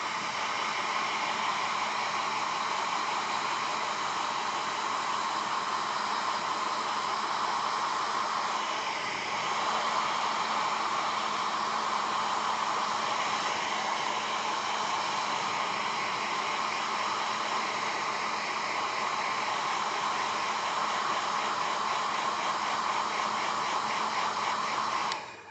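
A steady, loud whoosh of a hair dryer blowing continuously while drying a painted figurine, with a slight dip in the airflow partway through before it carries on unchanged.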